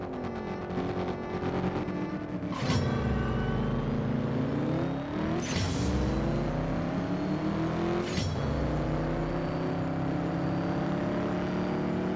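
Nissan Silvia racing in the CSR 2 mobile game, a loud, continuous engine whine climbing in pitch, dropping sharply at three gear shifts and rising again, with no talking.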